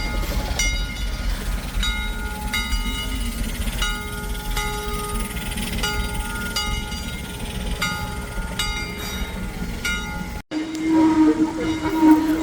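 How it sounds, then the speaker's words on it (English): A steam locomotive backs down at a heritage railroad depot toward its train in a siding, a steady rumbling chuff with repeated whistle-like tones and metallic ringing, close and loud, before a brief cut to a different rail sound. "backing down to go pick up its train in the siding that's behind the depot."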